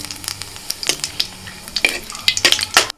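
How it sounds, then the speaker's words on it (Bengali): Whole bay leaf, cardamom, cinnamon, cloves and cumin hit hot oil in a pan for a village-style dish, giving quick crackling sizzles and spits with a few clinks of a spoon against the pan, close and alone. "প্রথমে ফোড়নে দিচ্ছি তেজপাতা এলাচ দারচিনি লবঙ্গ সামান্য একটু গোটা জিরে"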